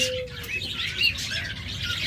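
Two pet budgerigars of a high-mutation pair keep up a busy, close twittering and chirping throughout, with no talking.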